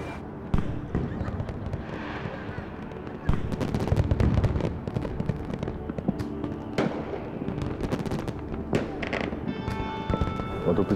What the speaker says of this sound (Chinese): 你这次给乐园设计的烟花，实物比设计图还要美